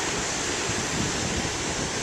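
Moderate ocean waves break as a steady, loud, broadband wash of surf, a continuous rushing roar with no distinct individual crashes and no voices.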